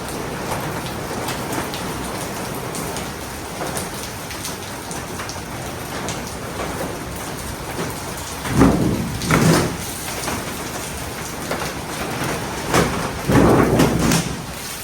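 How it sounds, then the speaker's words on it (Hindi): Heavy rain pours steadily as a dense hiss, with a couple of louder gusty surges of downpour partway through and near the end. "तो देखिए कितनी ज़्यादा तेज़ बारिश हो रही है ना"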